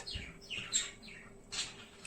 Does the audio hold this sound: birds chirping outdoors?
yes